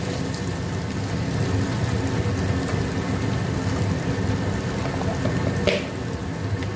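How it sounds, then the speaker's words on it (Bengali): Garlic cloves fry in oil with chili powder and turmeric, making a continuous close sizzle like steady rain, with one brief sharper crackle near the end. "এবার রসুনগুলো পুরো ভাজা হয়ে যাবে"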